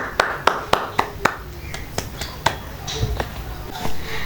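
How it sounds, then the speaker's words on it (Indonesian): A classroom of students claps in a rhythmic series of sharp, distinct hand claps, some in quick succession, with faint voices around them. "Oke, applause, give applause untuk kita semua."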